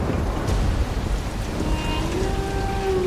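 Steady rain falls in a dense, even hiss with a low rumble underneath, suggesting distant thunder.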